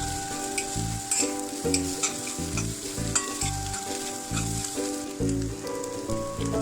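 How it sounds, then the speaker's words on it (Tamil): Shredded parotta and egg sizzle in a hot pan while a spatula stirs and chops, giving loud, close frying crackle broken by rhythmic scraping strokes over soft background music. "இப்போ பிச்சு வச்ச புரோட்டாவை அதில் போட்டு நல்லா கலந்துக்கலாம்."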